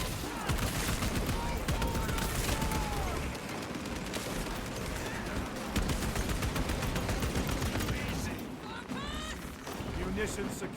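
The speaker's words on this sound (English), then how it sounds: "Small arms fire, by the way. These are just like their main guns. Las guns, ahoy!" Dense lasgun small arms fire rattles continuously in the Space Marine 2 video game, rapid overlapping shots mixed with explosions and battle noise, with voices talking over the din.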